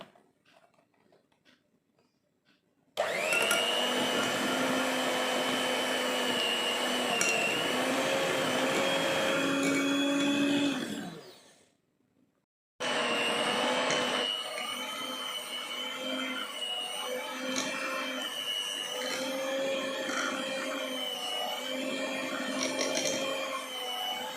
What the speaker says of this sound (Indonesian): ini selanjutnya akan saya mixer ya, sampai mengembang 2 kali lipat. Kita mixer pelan dulu ya.